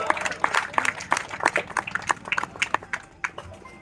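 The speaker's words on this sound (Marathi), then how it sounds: "सुरुवातीला इथं जोरदार टाळ्यांचा गजर" Spectators clapping at a kabaddi final in Panjim, Goa, a crowd's brisk, uneven applause with sharp individual claps throughout, fairly close and loud, gradually thinning toward the end.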